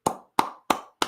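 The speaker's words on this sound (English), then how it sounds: "applause for Lil Jet." Four sharp, evenly spaced hand claps, close and crisp, each with a short decay, given as a small round of applause.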